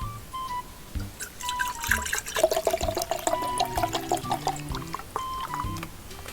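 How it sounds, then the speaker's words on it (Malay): A drink, chocolate milk or water, poured into a glass at close range, a steady liquid stream with small splashing and gurgling filling the glass over several seconds, with no talk. "Kita tuang air dulu."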